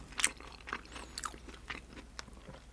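A mouth chews grilled freshwater eel in a thick spicy sauce at close range, making soft, wet, irregular bites and smacks that stay quiet with no speech.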